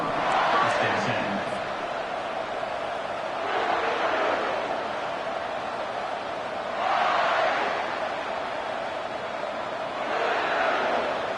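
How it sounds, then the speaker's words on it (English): Fired-up crowd in a college football stadium in Kentucky, a loud continuous roar that swells in waves every few seconds, heard under a commentator's talk. "It's early, but this crowd is fired up. Listen to this noise here."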